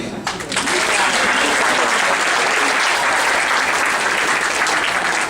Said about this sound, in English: Let's have a big round of applause for Anne